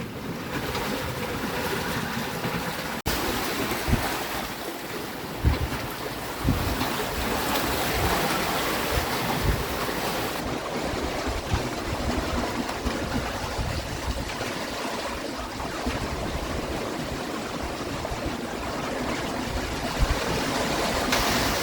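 Strong wind and breaking waves rush steadily around a sailboat on the open Pacific, a loud, continuous roar with splashes and gusts and no voices.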